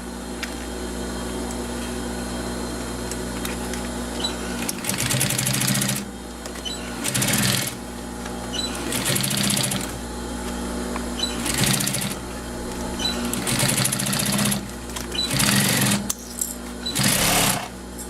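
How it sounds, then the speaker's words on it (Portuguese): A sewing machine stitches a seam around a synthetic leather crossbody bag in several loud bursts of rapid whirring, separated by quieter pauses over a steady low hum. "fiz a minha costura em toda a volta"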